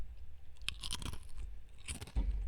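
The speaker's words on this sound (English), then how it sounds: "that's the worst kind of ASMR there is. Chewing." Close, crunchy chewing of food in an ASMR style, with bursts of biting and mashing that come and go across a couple of seconds, then a loud low thump at the end. No speech.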